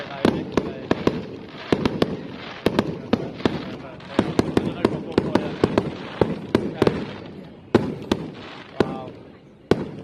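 Fireworks going off in Kirkby, a rapid series of sharp bangs and crackling bursts through ten seconds over a constant rumbling bed, with voices faintly in the background.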